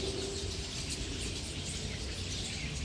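Birds chirp faintly amid the broad ambient hiss of a city park in New Delhi, a constant wash of outdoor noise with small tweets scattered through it and no talk.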